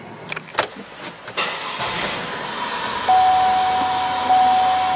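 A Buick LeSabre, after an ECM replacement, cranks with a few choppy bursts, then catches and settles into a steady, loud idle, with a thin whine appearing partway through.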